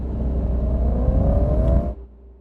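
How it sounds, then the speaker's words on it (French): A powerful car engine swells with a loud, rising rumble in a small, quiet alley, then drops off abruptly near the end. "Un bruit de moteur puissant enflait dans la petite ruelle tranquille."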